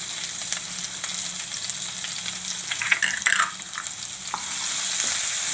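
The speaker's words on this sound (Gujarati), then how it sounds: "થોડીક આપણે હિંગ નાખશું હવે આપણે ડુંગળી નાખી દઈશું" Chopped onions hit hot oil already holding asafoetida, ginger and green chili for a Bhavnagar-style chana dal shaak, giving a steady close sizzle with brief stirring scrapes, and the frying swells louder toward the end.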